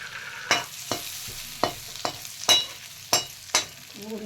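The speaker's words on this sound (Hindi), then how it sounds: "अब थोड़े 2 सूखी लाल मिर्ची भी डालेंगे, 2-3 करके टुकड़ा करके। फिर इसको भूनेंगे।" Broken dried red chillies fry in hot oil with a pinch of asafoetida, a tempering for sarson ka saag. A soft sizzle runs under repeated sharp spoon clacks against the pan, about two each second.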